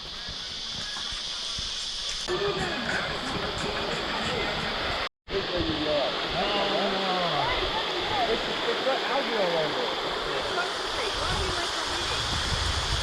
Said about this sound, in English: I'm guessing this is the waterfall.